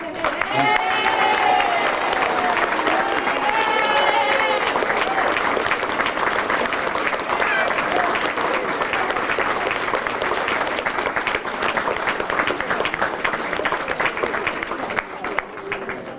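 Sustained applause from an audience honouring the Flexibus staff at the official opening of a LocalLink transport centre, dense and steady for about sixteen seconds with voices mixed in near the start.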